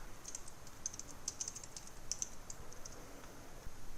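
Computer keyboard keys tap quickly and softly as a note name is typed, an irregular run of light clicks over a faint steady background hiss.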